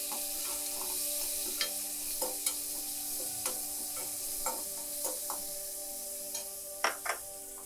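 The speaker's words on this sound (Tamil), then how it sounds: "ஜீரகம் நல்லா பொரிய ஆரம்பிச்சிட்டு ஒரே ஒரு வெங்காயத்தை ஒரு கொஞ்சம் பெரிய சைஸ் வெங்காயத்தை கட் பண்ணியிருக்கேன் அதை அது கூட ஆட் பண்ணிக்கோங்க" Chopped onion added to cumin seeds spluttering in hot oil in a pan gives a steady quiet sizzle, broken by light scraping stirs and soft taps at irregular intervals.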